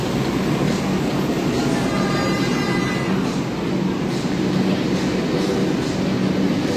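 A Kolkata Blue Line metro train at the Esplanade underground platform fills the space with a loud, continuous rumble and rattle of carriages, with faint squeals above the steady roar.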